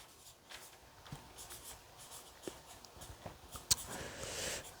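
Pen writing on the back of a paper page, faint scratchy strokes with a few sharp taps and a louder rustle near the end, close and quiet with no talk.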